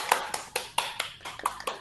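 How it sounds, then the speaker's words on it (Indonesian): Several scattered hand claps ring out in a classroom, close and fairly quiet, coming in an uneven patter of about eight sharp beats in under two seconds. "Tepuk tangan dulu untuk kita semua."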